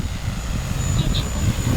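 A cover crop seeding drone flies nearby, its propellers giving off a steady, fairly loud whirring hum throughout the short stretch.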